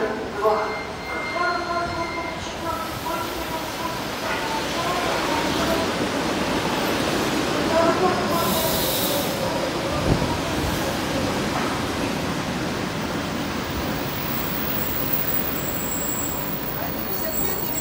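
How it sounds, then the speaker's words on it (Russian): An ED4M electric train rushes through a station in a long steady roar of wheels on rails, with faint squeals and a brief announcement-like voice in the background, loud and close for the whole stretch. "Поезд проследует."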